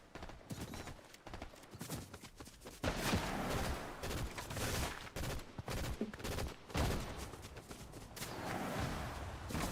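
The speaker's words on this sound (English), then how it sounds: "Who and what is shooting us?" Fortnite gunfire rattles in dense, noisy bursts, steady volleys of shots mixed with game action at a moderate level, with no clear voices.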